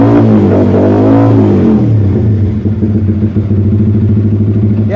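A car engine fitted with a budget aftermarket launch control kit first revs and climbs, then holds against the rev limiter. It stutters in a rapid, rhythmic fluttering burble, close and loud.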